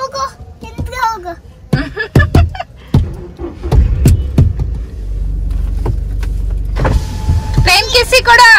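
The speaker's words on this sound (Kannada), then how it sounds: "ಕಾರ್ ಸ್ಟಾರ್ಟ್ ಮಾಡ್ತೀನಿ" A car engine starting up, with sharp mechanical clicks and thumps, then a steady low engine rumble that settles in. Voices, including a child's, talk over it.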